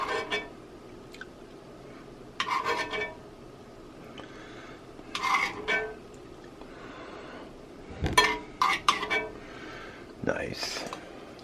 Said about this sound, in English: Dish out some of this homemade gravy.